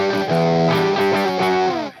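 A DIY high-voltage neon tube distortion pedal drives a guitar into a thick, harmonically rich overdriven tone, with sustained chords changing in a steady sequence before a quick drop-off at the end; no talking.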